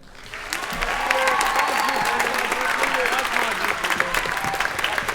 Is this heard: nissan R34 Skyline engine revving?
no